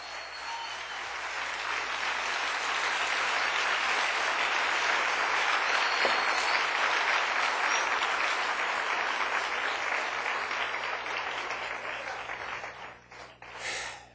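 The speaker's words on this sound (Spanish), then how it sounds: "Dale un aplauso bien fuerte al Rey bendito." A Spanish-speaking church congregation claps loudly and continuously during worship, the applause swelling and holding for over ten seconds before thinning out and fading at the end.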